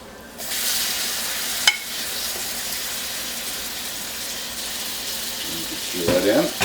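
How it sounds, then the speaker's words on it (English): Shallot and mushroom mixture dropped into a hot flour roux for lobster thermidor, a sudden loud sizzle that starts abruptly and holds as a bright hiss, with a sharp clatter and stirring noises toward the end. "At this point, we'll return our shallot and mushroom mixture that we made earlier to our roux."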